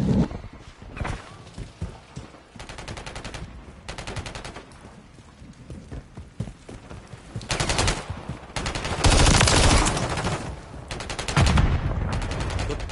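Automatic weapon fire crackles on the Grime multiplayer map in Call of Duty Modern Warfare 3, with loud bursts of rapid shots separated by quieter gaps and footsteps.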